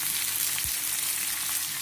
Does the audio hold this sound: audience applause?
no